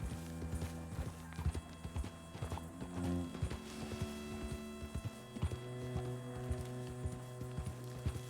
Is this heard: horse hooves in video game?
yes